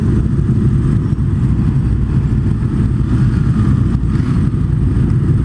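A large group of motorcycles on a New Year's group ride roars continuously nearby, a loud dense wall of engine rumble with revving swells and no pauses.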